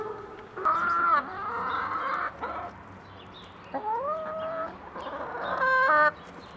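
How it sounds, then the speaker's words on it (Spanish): Chickens inside an abandoned prison cluck and squawk in several bursts, close and fairly loud, with a rising crow-like call near the end and quieter gaps between. "Verdad, hay gallinas."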